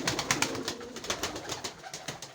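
Domestic pigeons coo repeatedly at close range, a run of soft rhythmic throaty calls with faint rustling between them.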